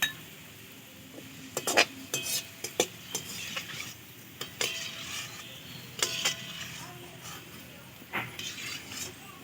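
Metal spoon or slotted ladle clinking and scraping against a frying pan while lifting fried onions (beresta) out of hot oil for chicken biryani, with sharp, irregular taps and scrapes close by in a quiet kitchen.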